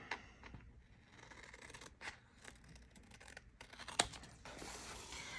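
Scissors cut through tape at a craft table while a watercolor floral piece is being prepared: quiet, close snips and a rough tearing rustle recur across the span, with a sharper crisp cut near the end.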